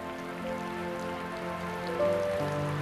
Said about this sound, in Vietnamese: Trời ơi tôi thấy trời mưa lớn